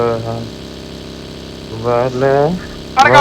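A Bolero vehicle's engine hums steadily in the BGMI battle royale game, a mid-pitched idling drone that sits under excited talking.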